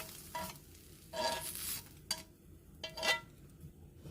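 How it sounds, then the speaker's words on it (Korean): Shredded meat stir-frying in a hot pan for stone-pot bibimbap, with bursts of sizzling as the pieces are tossed and pushed around, separated by quieter gaps, close and moderately loud with no talking. "그러면 이제 고기 볶아줍니다."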